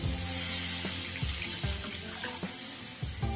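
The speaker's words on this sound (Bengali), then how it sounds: "এবার আমি দিয়ে দেব জল" Water pours into a pan of radish curry with a steady splashing stream, close and moderately loud, and a few soft knocks come through the flow.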